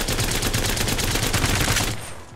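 Havoc rifle from Apex Legends firing full-auto, a steady fast stream of loud rapid shots for about two seconds before cutting off, no talking over it.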